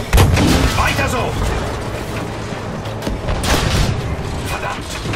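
Gunshots and artillery in a Battlefield V war mission, heavy booms and bursts of rifle fire with rumbling explosions, loud and close, mixed with shouted voices.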